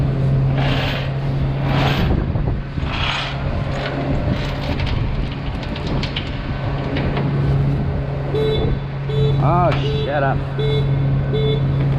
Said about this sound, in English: Definitely a horn of a fully electric car. Little whiny horn.